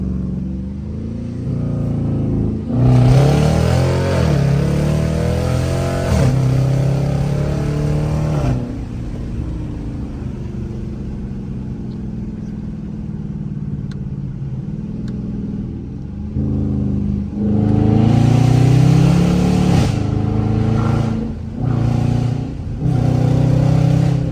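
Dodge Charger RT V8 with the mid mufflers cut off, driven in regular street mode, roars through two loud, close full-throttle pulls separated by a quieter cruising stretch, with no talking.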